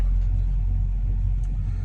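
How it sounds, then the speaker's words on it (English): A truck trailer's refrigeration unit hauling chilled chickens runs steadily, a continuous low engine-like drone and rumble that stays even throughout the short stretch. "There goes that reefer unit again, keeping y'all supper cold."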